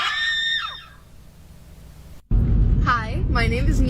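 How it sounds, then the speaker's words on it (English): A person one week on testosterone screams loudly at close range, with a shorter scream before it, after a brief silent gap. "this is my scream"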